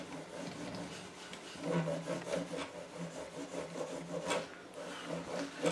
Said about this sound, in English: I'm now going to just rub the fretboard down again with 4-aught steel wool.